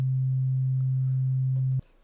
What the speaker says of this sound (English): sine is just a basic sine wave